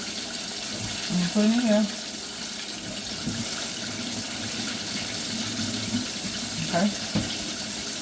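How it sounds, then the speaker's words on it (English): Tap water runs steadily into a kitchen sink while food is rinsed for fried pickles, a continuous close splashing stream with a brief voice speaking over it early on and again near the end. "I'm gonna rinse them out."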